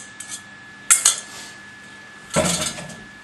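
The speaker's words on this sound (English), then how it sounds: "We're stirring a bit." Utensil clinking against a bowl while beaten egg is stirred into chocolate for a Swiss chocolate cake, a few sharp scrapes and taps in separate bursts with quiet gaps between.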